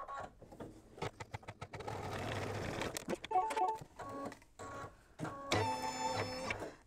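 A sewing machine stitches fabric for a small quilted mug rug. It runs in short, stuttering bursts with a mechanical whir and faint clicks, quiet and close, with no talking.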